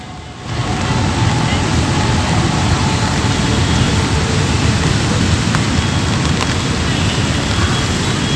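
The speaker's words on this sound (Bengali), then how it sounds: "এই মুহূর্তে আকাশ মেঘলা করে বৃষ্টি শুরু হয়েছে" Rain begins falling at a college football match between Vidyanagar College and AJC Bose College, a loud, dense, steady hiss of rainfall that swells up within the first half second and continues unbroken.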